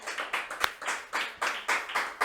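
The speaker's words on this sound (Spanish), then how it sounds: "Regálale un aplauso al Señor." A church congregation claps together in a steady, rhythmic beat, fairly close and even, with no talking over it.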